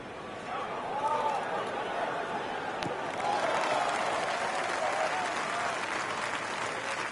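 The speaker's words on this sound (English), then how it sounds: "And the crowd goes wild." A golf crowd in the Rory McIlroy PGA Tour video game applauds with steady, sustained clapping and some chatter that swell slightly and carry on throughout.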